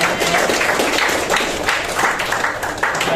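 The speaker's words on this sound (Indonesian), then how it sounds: "kita kasih tepuk tangan dulu ya" A class of students gives a round of applause in a classroom, a rough, uneven patter of clapping hands that swells and dips slightly at a moderate distance.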